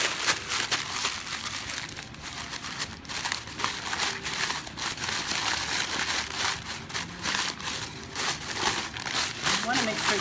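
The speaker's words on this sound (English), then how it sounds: "I've got this piece of just brown kind of wrapping paper, and I'm just going to crumple it up." Brown wrapping paper is crumpled up by hand, giving a steady close crackling and crinkling that runs throughout, with a person talking over it.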